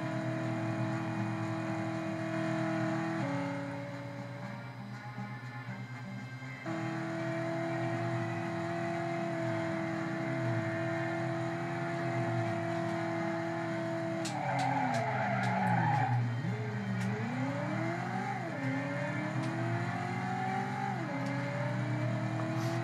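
A car in the PS1 video game Driver revs and drives loudly through a city, with sustained engine drone, gear changes and long squealing tire skids with wavering pitch.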